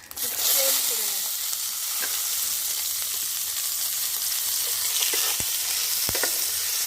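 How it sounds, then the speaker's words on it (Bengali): Onion, tomato, garlic, green chilli, ginger and cashews frying in a pan, a loud, steady, close sizzle that holds throughout with occasional small clicks and pops. "দিয়ে এটাকে খুব ভালো করে ভেজে নেবো"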